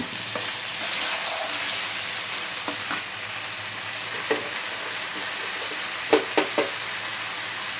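Tomato and ground cashew paste fry in a pan for a pointed gourd curry, giving a steady, fairly loud sizzle. A few clinks and stirring scrapes come near the end.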